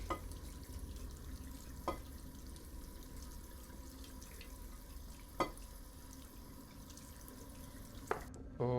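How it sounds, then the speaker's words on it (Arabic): Dishes being washed at a sink in the video game Fears to Fathom, a faint, steady trickle of running water with occasional soft clinks and drips. "وانا راح انظف الصحون"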